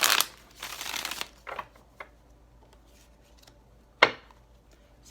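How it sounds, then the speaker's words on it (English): A deck of tarot cards shuffled close by, with a long papery riffle at the start, followed by a few scattered taps and a sharp snap of the cards in a quiet room. "Alright, this will be our last shuffle."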